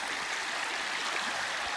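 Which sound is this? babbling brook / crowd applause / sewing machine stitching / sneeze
babbling brook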